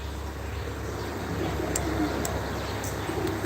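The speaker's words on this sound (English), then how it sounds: "listening to the birds in the tree" Low, faint cooing of doves in a tree blends into a constant broadband outdoor noise, with a few brief higher chirps breaking through.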